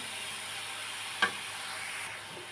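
Papaya bhaji frying and being stirred in a pan, a soft continuous sizzle with one brief sharp clink of a utensil partway through, close but fairly quiet, no talking.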